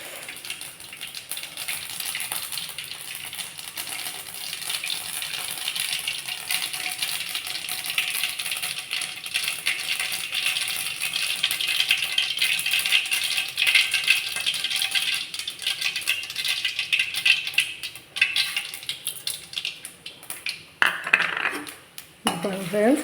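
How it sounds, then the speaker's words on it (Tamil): Mustard seeds and urad dal spluttering in hot oil in a pan for a Tamil home-style tuber dish, a continuous dense crackle and patter of tiny pops with sharper bursts near the end, close and moderately loud. "இப்போ கடுகு போட்டுக்கலாம். கடுகு பொரியட்டும். அடுத்தது உளுத்தம்பருப்பு போட்டுக்கலாம்."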